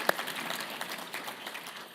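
An audience at a political leadership conference in Pennsylvania applauds steadily, a dense wash of clapping that holds at moderate level throughout.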